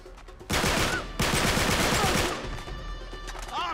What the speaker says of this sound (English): Whoa, shotgun.